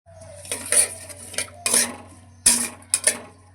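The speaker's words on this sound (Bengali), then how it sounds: "মশলাগুলোকে তেলের মধ্যে একটু মিশিয়ে দিলাম" Spices (ginger and green chilli paste, turmeric, cumin and coriander powder) stirred into hot oil in a pan, a few sharp metallic scrapes and clinks of the spoon against the pan over a steady low hum, near and with no talking.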